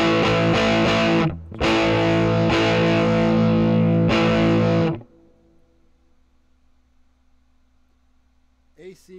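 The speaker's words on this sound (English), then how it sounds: "It's got a little bit of distortion." Electric guitar played through a Spark 2 amplifier model with light distortion, loud sustained chords with a brief gap, then a decaying ring into low amp hum and a faint final noise.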